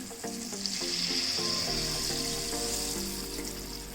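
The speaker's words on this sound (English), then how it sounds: "So I'm going to add this batter into it" Rice flour batter poured into boiling water with coconut oil for idiyappam, giving a steady close bubbling and hissing with small popping sounds throughout.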